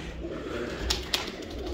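Pigeons cooing softly inside a breeding loft, a low steady murmur with a couple of brief sharper sounds from the birds, no talking.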